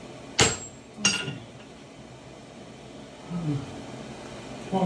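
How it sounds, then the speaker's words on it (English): Blacksmith's hand hammer striking hot metal on an anvil during a tomahawk forging demonstration, two sharp ringing blows close together, then quiet murmuring and faint movement. "Follow me with the hand hammer."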